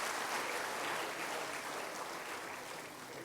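Steady, dense applause from an audience at a scholarship award ceremony, a continuous wash of clapping heard alone at moderate level.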